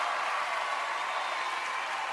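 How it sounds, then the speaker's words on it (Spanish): An audience gives a standing ovation at a children's singing competition, a dense, steady wash of clapping and crowd noise heard at some distance and sustained throughout. "¡Ovación de pie!"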